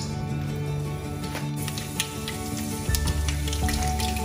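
Indian home cooking in a hot pan, paratha in ghee with a vegetable curry, crackles and sizzles steadily at close range, with a sharper burst of spattering near the end and no talking.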